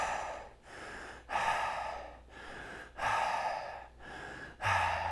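Rhythmic pumping breathing exercise, with six forceful, noisy breaths in a steady cycle, close and loud, and no talking.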